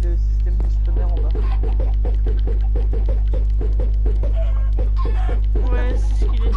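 Minecraft chickens from the video game, a rapid run of short clucks repeating steadily over a loud constant mains hum, with no talk.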